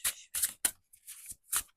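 Sacred Creators Oracle cards being shuffled close up, five or six short papery riffling bursts in quick succession.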